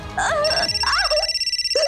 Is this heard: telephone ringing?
yes